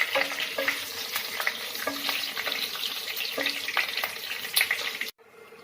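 Dried chilli, bay leaf, cardamom, cinnamon and whole cumin sizzle steadily in hot oil, with a loud, dense crackle and occasional light clinks, cutting off abruptly near the end.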